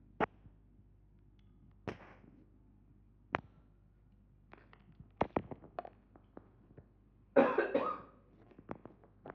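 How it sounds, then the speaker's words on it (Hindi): A person's coughing fits, several short sharp bursts spread out with quiet gaps between them and a longer, rougher cough cluster near the end, heard up close with no talking. "मुझे थोड़ी खांसी आ रही है।"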